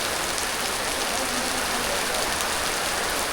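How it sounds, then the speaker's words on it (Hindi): Heavy rain pours down steadily, a dense, loud, unbroken hiss of drops hitting surfaces nearby. "बारिश कैसे लग रहा है, देखो"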